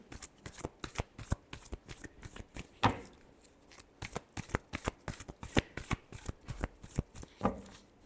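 Cards being shuffled during a Scorpio tarot reading, a fast continuous riffle of crisp flicks and slaps, close and moderately quiet, with no talking.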